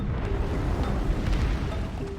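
Heavy explosions on a cliff in the war film Hacksaw Ridge roll together into a dense, rumbling blast, loud and continuous for a couple of seconds with no voices.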